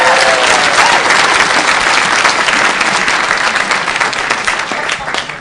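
Loud, sustained audience applause from a crowd at a motivational speaker's magic trick with a $100 bill, dense clapping throughout that gradually tapers near the end.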